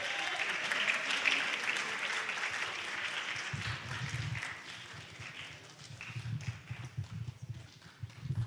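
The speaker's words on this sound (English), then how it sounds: "Give her a round of applause." Church congregation applauding during a baptism service, a steady wash of clapping that holds throughout, thinning slightly midway, with a low rumbling underneath.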